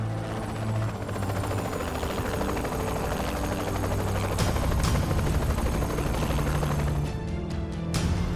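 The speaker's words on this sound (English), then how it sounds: "Called the boys and they're flying in a chopper." A video-game helicopter in Saints Row: The Third Remastered flies in with a loud, steady rotor thrum and whine, joined near the end by a few sharp bursts.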